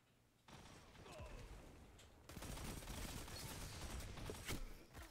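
A Crimson auto rifle in Destiny firing rapid bursts, heard as a steady rattle of shots amid game combat noise, fairly quiet overall with a louder stretch in the second half.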